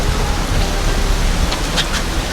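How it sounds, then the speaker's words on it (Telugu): Rain begins falling on a whale-watching boat off Mirissa, heard as dense, loud, continuous hiss with a low rumbling wash underneath and a few brighter spatters near the end, with no voices. "వెనక్కి వెళ్ళేటప్పుడు ఇక్కడ వర్షం కూడా స్టార్ట్ అవుతుంది"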